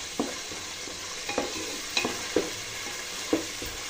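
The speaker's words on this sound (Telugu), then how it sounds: "అల్లం వెల్లుల్లి పేస్ట్ని కలుపుకొని పచ్చివాసన పోయేంత వరకు కుక్ చేసుకోవాలండి" Ginger garlic paste frying with golden brown onions in a pan, stirred with a spoon in a few distinct scraping strokes over a steady soft sizzle, close and fairly quiet.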